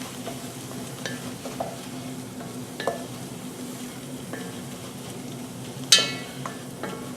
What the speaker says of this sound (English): Stir that in as well